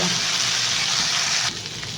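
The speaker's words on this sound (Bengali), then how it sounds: "এবার এই আলুটা ভেজে নেবো, ভাজা হলেই নামিয়ে নেবো।" Potatoes frying in oil in a pan give a close, steady hiss and crackle, with a faint clink of stirring, no voices.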